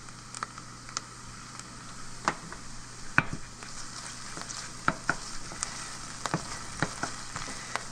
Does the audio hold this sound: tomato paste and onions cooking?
yes